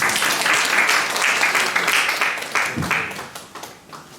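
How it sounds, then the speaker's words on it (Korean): A church youth congregation claps together after a prayer, loud and lively at first, then thinning out into scattered claps as it fades. "우리 하나님께 영광의 박수 올려드립니다."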